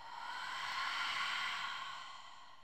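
A single slow breath, drawn in through the nose and let out through the mouth during a yoga session, soft and close with a gentle swelling rush of air.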